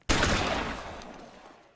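A single heavy gunshot blast in the video game L.A. Noire, sharp at the start and then rolling away in a long decaying echo, loud and alone.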